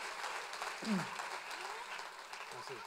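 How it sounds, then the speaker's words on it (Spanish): Scattered applause from a conference audience at a CLIC 2017 talk, fairly faint and thin, with a brief spoken word and some voices and background murmur mixed in. "Denles un aplauso"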